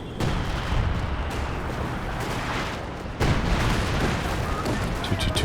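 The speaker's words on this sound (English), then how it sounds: "Some base howitzer fire coming in" Base howitzer artillery fire in Company of Heroes 2 booms repeatedly at moderate distance amid battle noise, with a caster's voice talking over it.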